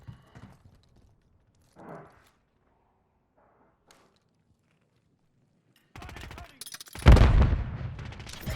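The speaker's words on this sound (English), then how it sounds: "Another airstrike." Airstrike explosions and gunfire in a battle-royale video game, with a few quiet thuds early on, then a dense burst of rapid bangs and a loud, booming blast that rolls on near the end.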